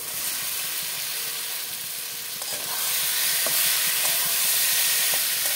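Fried cauliflower hits a pan of cooked-down spice masala with tomato and slit green chillies, giving a loud, continuous close sizzle that swells slightly partway through, with no talking.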